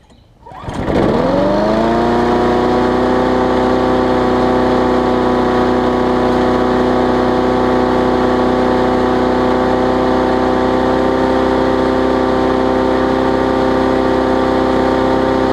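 A Murray Big Wheel riding mower engine runs on its own after starting with no spark from a dirty coil, settling within a second into a steady, loud, continuous idle with a droning hum that holds unchanged throughout.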